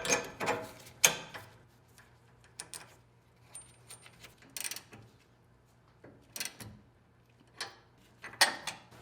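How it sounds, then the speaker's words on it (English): A lower sway bar bolt goes in on a 1980-1996 Ford Bronco, with scattered metallic clinks, ratchet clicks and taps from tools and hardware, separated by quiet gaps. "And install the lower sway bar bolt."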